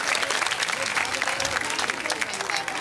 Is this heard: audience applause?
yes